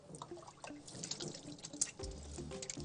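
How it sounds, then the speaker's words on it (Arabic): Tap water runs over hands being washed in a home kitchen sink, a close, uneven splashing and dripping with small knocks, ending in a heavier gush. "اسمح لي اغسل ايدي"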